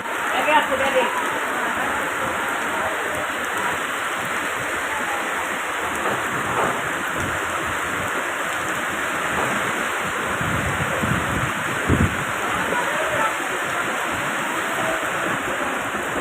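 Rain and wind around the Parabat 18 river passenger ship on the Kirtankhola river, a steady loud wash of rain and water with gusting noise, constant and close throughout.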